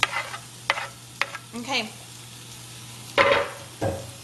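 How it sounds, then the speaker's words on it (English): Food sizzles briefly in a hot pan amid a few stirring clatters and scrapes, with a person saying a word at the start. "Oh, sizzling already."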